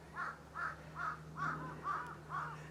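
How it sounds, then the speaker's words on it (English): Six evenly spaced crow caws ring out in a steady rhythm, moderately close, at Hase-dera temple in Kamakura, Japan, over a low background hum. "You can hear the crows."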